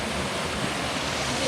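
Mountain spring water flows steadily from its source in Chefchaouen, Morocco, a continuous close rushing wash that fills the short moment without a break.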